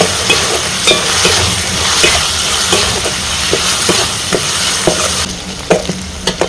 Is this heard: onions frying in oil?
yes